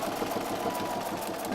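A sewing machine stitches binding around the edge of a quilt, a continuous fast mechanical whirr and rattle held steady and close, with no talking.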